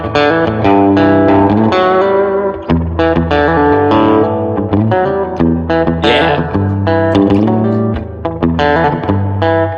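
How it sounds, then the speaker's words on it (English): An electric guitar played through spring reverb rings out in a loud, continuous run of plucked notes and chords, with a distorted, splashy, echoing tail on each note. "It sounds so different with the spring reverb."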